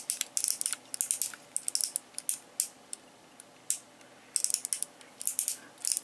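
The ratchet mechanism of a Universe Ultra Powerglide clicks in quick irregular bursts of sharp ticks, fairly close and quiet, with short pauses between runs and no talking.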